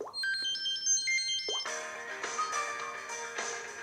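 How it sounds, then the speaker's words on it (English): Samsung Galaxy Core Prime phone plays a ringtone preview: bright synthetic melodic tones, a short rising motif repeated, then a fuller chiming phrase with sustained notes, clear and alone. "Click on ringtones, and now we have a nice list of ringtones that we can choose."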